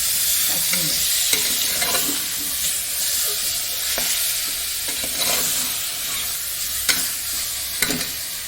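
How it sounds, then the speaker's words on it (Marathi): Washed chicken frying in a pressure cooker on low gas, a steady bright sizzle with repeated stirring scrapes and occasional utensil knocks, close and fairly loud, no voices. "धुतलेलं चिकन थोडं थोडं करून कुकरमध्ये टाकूया"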